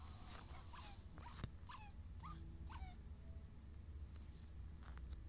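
A dog in the Minecraft video game gives several short, high whimpering yelps at irregular intervals over a low steady game background, with no talking.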